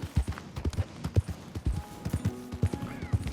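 Hooves of a horse in the video game Red Dead Redemption 2 clip-clopping at a steady walking pace, soft and close, with a faint whinny and quiet game ambience.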